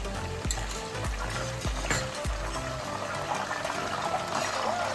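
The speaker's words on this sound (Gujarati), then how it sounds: "એમાં આપણે નીમકવાળું પાણી આમાં એડ કરશું" Salted water pours steadily into hot oil with frying banana wafers, sizzling and bubbling continuously, with a few soft knocks early on.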